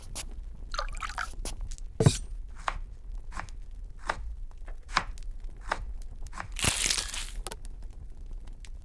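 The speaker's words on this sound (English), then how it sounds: "Cut the meat." Knife chopping meat on a board for battered fried meat, a steady series of sharp, close thuds spaced about every half second, with a brief louder crunchy scrape near the end.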